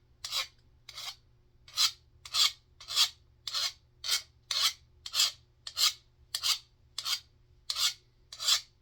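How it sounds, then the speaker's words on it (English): A file rasps along an axe edge in slow, even pushing strokes, about fourteen crisp scrapes at a steady rhythm, close and clear with a faint low hum behind. "You sharpen your edge."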